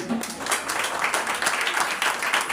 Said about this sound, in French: Encore une fois, prière de les applaudir.